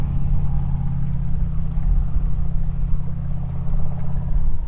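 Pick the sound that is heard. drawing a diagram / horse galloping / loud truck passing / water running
loud truck passing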